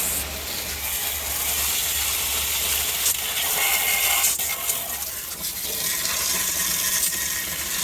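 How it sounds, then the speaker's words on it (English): Water runs into a container already holding vinegar and rusty cast iron, a continuous broadband hiss and splash with faint clinks and scrapes mixed in, close and fairly loud throughout. "now I'm getting ready to fill it the rest of the way with water"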